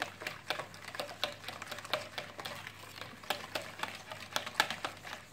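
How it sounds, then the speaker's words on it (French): Batter of eggs, sugar and milk for coconut basbousa is mixed briskly in a bowl, making a steady run of quick, light clicking and tapping strokes at close range. "Je fais juste de bien mélanger."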